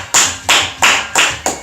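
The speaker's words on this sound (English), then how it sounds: "let's clap him up" An audience at a hip hop podcast claps in short bursts, five sharp distinct claps in an even rhythm, close and fairly loud.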